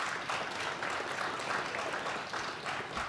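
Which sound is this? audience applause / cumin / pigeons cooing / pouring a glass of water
audience applause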